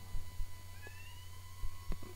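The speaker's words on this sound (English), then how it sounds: "I think the cat needs to get in to go to the bathroom." A cat meows to be let in, two or three short, fairly close meows over a steady low hum in a quiet indoor room.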